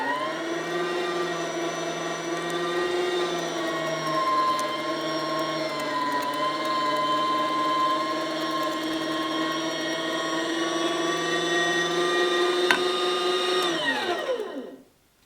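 A meat grinder grinds wild hog meat and then bread for lumpia, giving a steady, loud motor whine that holds for about fourteen seconds and then winds down as it is switched off, with no talk.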